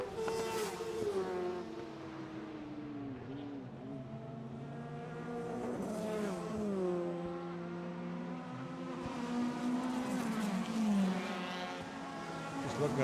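A Formula 1000 race car engine screams at high revs down a straight at a circuit race, its tone rising and falling through gear changes, steady and fairly loud from start to finish.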